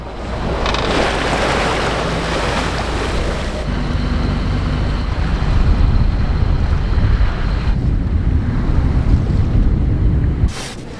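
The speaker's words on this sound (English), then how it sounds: "there's lots of swell." Heavy ocean swell and waves at sea aboard a sailboat, with a continuous loud wash of water and strong wind buffeting the microphone, and no voices.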